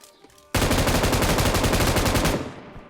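A sustained burst of automatic rifle fire in the PUBG Mobile video game erupts suddenly after a quiet moment, rapid evenly spaced shots holding loud for about two seconds before trailing off.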